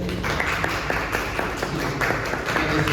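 An audience applauds after a poet's talk at a panel on contemporary Latin American poetry during a festival. The clapping is close and full and keeps an even wash throughout.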